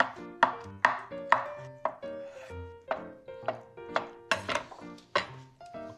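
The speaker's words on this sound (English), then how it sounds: "And cut it into cubes." A knife cuts drained tofu into cubes on a board, giving a steady run of about a dozen crisp, close chopping knocks at an even rhythm with short ringing tails.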